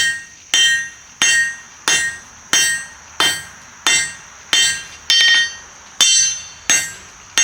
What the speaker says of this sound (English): Let's hit the steel and not the anvil.